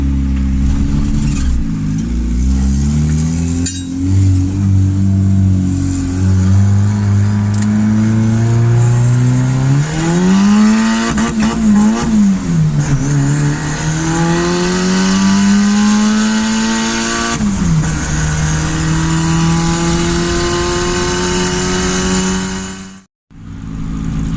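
Turbocharged Honda Civic with a D16 engine at about 9 psi of boost, revving hard up to its 7,000 RPM redline through first and second gear at full throttle; a loud, close engine note that climbs, dips at the shift and climbs again before cutting off.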